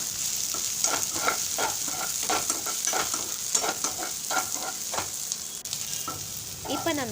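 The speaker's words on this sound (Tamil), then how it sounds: "இப்போ வெங்காயத்தை வதக்க ஆரம்பிச்சுக்கலாம். வெங்காயம் கோல்டன் ப்ரௌன் கலரில் மாற அளவுக்கு அதை நல்லா வறுத்துக்கோங்க." Onions sautéing in a pan for a Tamil-style pepper chicken, a steady loud sizzle and frying hiss with rhythmic stirring scrapes throughout, close up and with no talking.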